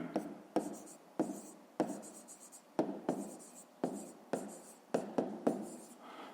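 A pen writes on paper while a fifth-grade math exercise is worked out, with quick close strokes in short bursts and small ticks that repeat about once a second, soft and alone.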